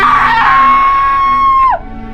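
A loud, sustained high-pitched shriek from a character in a Thomas the Tank Engine story holds for nearly two seconds, then bends sharply downward and cuts off, leaving a quiet hum.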